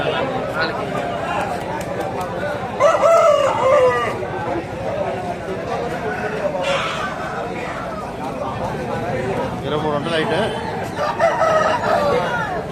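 Fighting roosters crow repeatedly at a busy weekly poultry market, several loud calls rising over constant crowd chatter and nearby talk.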